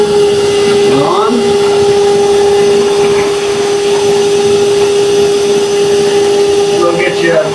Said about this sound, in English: We're going to suck up some of this dirt and see how it does